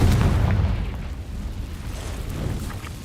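A Confringo spell explosion in the Hogwarts Legacy video game, cast inside a cave: a single deep, booming blast that rumbles and slowly fades, with no talking.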